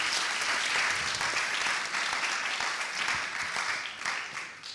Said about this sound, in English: Doesn't the applause need to be light?